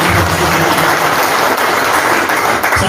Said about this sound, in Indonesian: Boleh berikan tepuk tangan yang meriah buat Bapak Kapolres